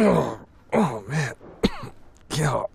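A character in the video game This Is the Police 2 coughs and clears his throat in several short, close bursts, with brief pauses between them.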